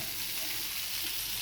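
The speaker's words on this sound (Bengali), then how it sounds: "একটু ভেজে দেবো।" Masala for a Bengali amudi fish curry fries and sizzles quietly in a pan, a soft continuous hiss with no voices.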